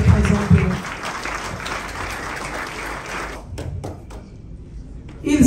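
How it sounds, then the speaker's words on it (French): An audience stands and applauds at a gathering, a dense wash of clapping that fills the first few seconds, then thins and tapers into scattered claps before a brief swell at the end. "Est-ce que nous pouvons nous tenir debout et acclamer avant que je ne puisse les présenter?"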